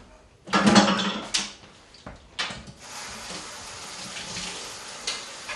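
Cold water splashes from a tap into a sink in a few bursts, then runs steadily, close by with some clatter.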